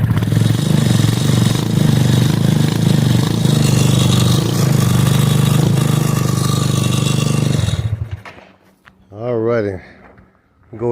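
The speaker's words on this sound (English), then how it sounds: "this bike sounds pretty good, man" A Yamaha Zuma scooter fitted with a swapped GY6 engine idles loudly and steadily, a dense mechanical drone with light clatter for about eight seconds before cutting off, after which someone talks briefly.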